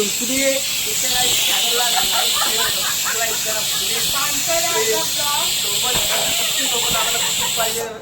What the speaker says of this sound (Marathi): कुकरची दुसरी शिट्टी झाली आहे